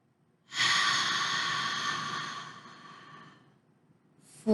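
One slow, long breath is drawn in and let out as a paced breathing exercise. It is close and soft and fades over about three seconds, and the next breath starts just at the end.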